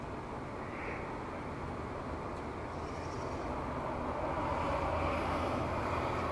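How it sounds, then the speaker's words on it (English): A high-flying airplane passes overhead at sunrise on Cove Road in Stamford, Connecticut, a distant, steady broadband roar that slowly builds in loudness. "look how high that plane is"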